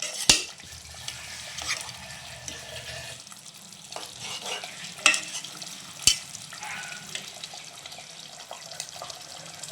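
Chicken pieces, including leg pieces, being stir-fried in a pan, with soft continuous frying noise and occasional sharp clinks of a spoon against the pan, fairly quiet throughout.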